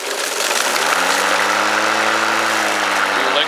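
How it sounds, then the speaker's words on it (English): A Black & Decker 40V cordless lawnmower spinning up and running, a steady broadband whir with a rising motor tone that settles into a constant hum, close and unbroken, no talking. "And that's the noise of the lawnmower."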